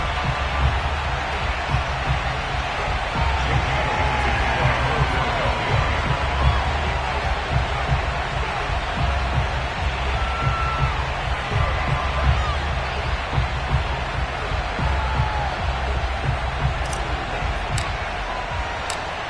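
A steady stadium crowd roars and murmurs continuously at FedEx Field before a Washington matchup with the Philadelphia Eagles in an EA Sports NFL game, a dense, unbroken wash of distant cheering with faint ticks.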